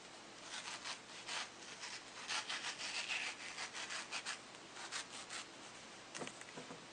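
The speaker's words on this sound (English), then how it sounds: "Cut strips on the mango. And do it crosswise." A knife slicing crosswise strips into a mango, a steady series of soft scraping, rubbing cuts close by with short pauses between strokes, no talking.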